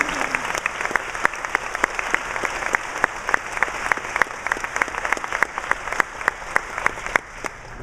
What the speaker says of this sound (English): applause for my family.